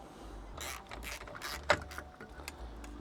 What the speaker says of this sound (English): Let's take these bolts here off.